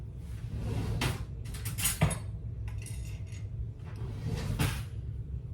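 Someone in a kitchen fetches a knife, with a cupboard or drawer sliding and knocking, cutlery clinking and a few sharp clacks, close and moderately loud, no talking.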